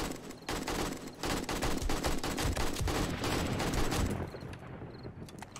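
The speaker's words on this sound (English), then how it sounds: "I love the AK. It's such a fun gun." Rapid, sustained AK rifle gunfire in the video game 7 Days to Die, loud dense bursts of automatic shots for most of the stretch before tapering off into quieter ambience near the end, no talking.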